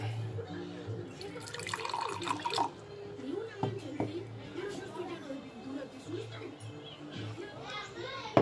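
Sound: water running from a household tap

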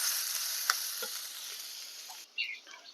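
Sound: onions frying with fish curry in a pan

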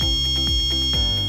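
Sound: electronic device beeping in sound mode

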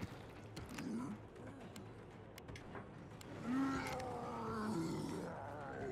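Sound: Minotaur roaring in a video game

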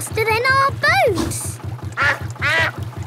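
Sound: cartoon duck quacking, Peppa Pig

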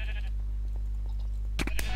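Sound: sheep bleating in the video game Minecraft

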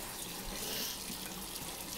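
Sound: hot water running from tap into measuring cup

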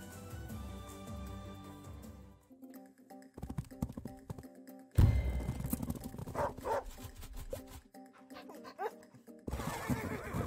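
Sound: dog unit in Wargroove video game

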